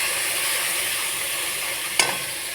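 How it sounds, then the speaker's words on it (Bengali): Onion and garlic paste fries in hot oil with whole garam masala, a steady close sizzle throughout, broken once by a brief sharp clack of stirring near the end. "পেঁয়াজ আর রসুনটা ভেজে নিলাম"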